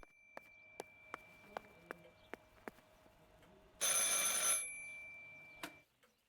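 A telephone rings in the horror video game Martha Is Dead: one bright, loud ringing burst of about a second cuts through a steady, regular ticking, then trails off into quiet, with no voices.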